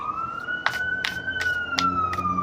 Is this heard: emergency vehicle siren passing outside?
yes